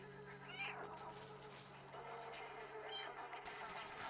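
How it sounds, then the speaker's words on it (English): A cat's soft meows from the video game Stray, a few brief faint calls over a low background hum and quiet game sounds. "Meow"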